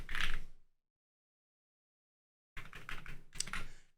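Quick bursts of computer keyboard typing at a command line, one short flurry, a pause of silence, then a longer run of close keystrokes, with no talking.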